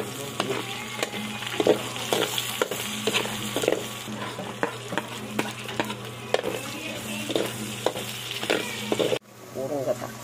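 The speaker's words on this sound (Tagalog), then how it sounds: "Kami gigisa sa pinagpirituhan ng igat para yung lasa hahalo lang din sa ating mga rekado." Aromatics sauté in oil previously used to fry eel, a loud continuous sizzle punctuated by regular scraping strokes of a spatula against the pan, close up, cutting off near the end.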